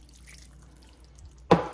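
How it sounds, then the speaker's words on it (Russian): Water poured into a salted, peppered chicken and pork dumpling filling, heard as a single short, sharp splash near the end after near silence. "наливаю водички много."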